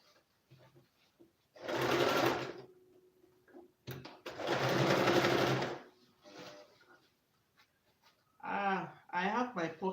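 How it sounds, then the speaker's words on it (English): Sewing machine stitching fabric in two loud bursts of steady whirring, each lasting about a second, with quieter handling sounds between them and speech near the end. "So I want to sew it down."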